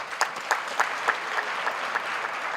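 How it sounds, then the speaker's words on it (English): A graduation audience applauds the choir in a sustained burst of clapping that fills a large hall, with a few sharper claps standing out in the steady wash. "I think they really deserve an applause."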